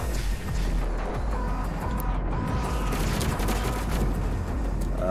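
Dense, continuous gunfire from combat in the video game DOOM Eternal, played on Nightmare difficulty, with rapid overlapping shots and booms filling the whole stretch at steady loudness.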